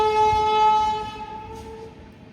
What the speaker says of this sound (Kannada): ನಿಂದಿರ್ತತ್ ನೋಡ ಅದ ಟ್ರೈನ್